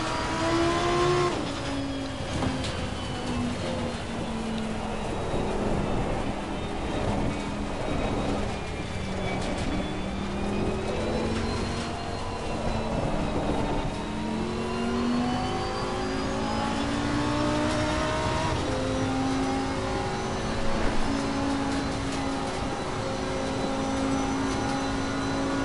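A race car engine heard from inside the cockpit in the racing game Assetto Corsa Competizione on PS4 drones steadily, its pitch rising and falling with the revs through gear changes. The sound is loud and continuous, with no talking.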